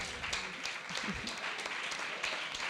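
A university wine-tasting audience applauds the members of a tasting group, a brief, fairly quiet ripple of clapping from a modest crowd, steady throughout with a few sharper individual claps.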